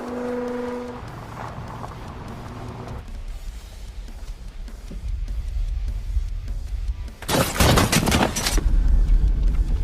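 Gunfire in a film shootout between Latin American gangsters and mercenaries, with a dense burst of rapid shots near the end over rumbling vehicle noise and a brief horn-like tone, loud and close.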